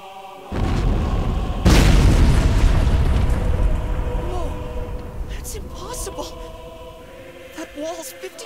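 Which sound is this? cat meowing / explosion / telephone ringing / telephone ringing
explosion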